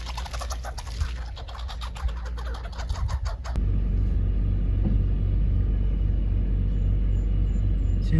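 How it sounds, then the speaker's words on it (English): A car drives along with a loud, steady low engine and road rumble that suddenly grows fuller partway through, with faint bird chirps audible in the opening seconds. "I'm gonna continue driving."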